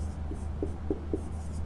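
Marker or chalk strokes on a board during a physics lesson, with about four short, close scratchy squeaks in steady rhythm over a low steady hum.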